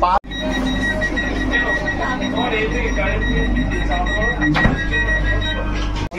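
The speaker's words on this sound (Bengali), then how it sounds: "আমাদের ট্রেন স্টার্ট হয়ে গেল, দেখতে পাচ্ছেন।" The Bhagalpur–Howrah Vande Bharat Express pulls out on its inaugural run, a continuous low rumble of rolling rail cars with a steady tonal whine, heard from inside amid passengers chatting.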